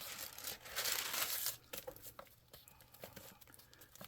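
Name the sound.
antique tissue paper being handled, crinkling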